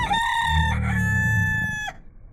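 A rooster crows once, loud and close at a weekly market in Malaysia, a long rising then falling call with a low rumble of background noise beneath it.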